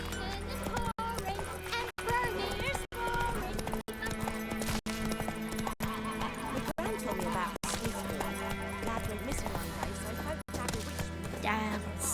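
Roach, the horse in The Witcher 3, pounds along in a steady galloping rhythm of hoofbeats, with an occasional whinny over a layered game soundscape that has regular brief dropouts.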